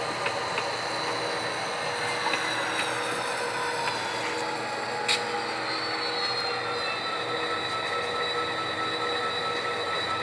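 A train moving hopper cars along a rail line in Huntington Beach, with a steady rumble under high, drawn-out wheel squeals and metallic screeches, plus a few sharp clanks, at moderate distance and without talking.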